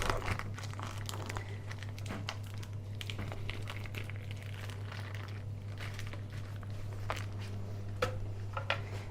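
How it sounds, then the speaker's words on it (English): Knife cutting thick cottage cheese into small pieces for Dukan bread, soft squishy crinkling cuts and light taps repeating irregularly and close, over a steady low electrical hum. "first I'm going to be cutting up this cottage cheese because it's really thick"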